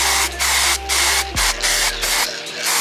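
An aerosol spray paint can hisses loudly in several short bursts, close up, with brief pauses between sprays, while prepping a BMW E36 drift car chassis.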